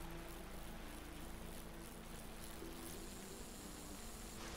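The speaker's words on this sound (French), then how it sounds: "Allez hop, on démarre du haut d'un hélico." A helicopter in the mountain-bike downhill game Descenders drones steadily throughout, a constant rotor and engine hum at moderate level with no talk over it.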